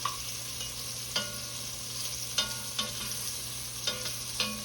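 Shrimp frying in vegetable oil in a single pot for Cajun shrimp, a continuous close sizzle broken by regular light clinks and scrapes of a utensil turning them.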